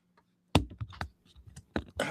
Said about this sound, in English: let me just get situated so I can start typing